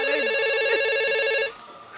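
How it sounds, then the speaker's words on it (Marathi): A mobile phone rings with a loud, repeating electronic ringtone that stops abruptly after about a second and a half, leaving a quiet room. "ताईंचा फोन आहे, मी कशाला उचलू?"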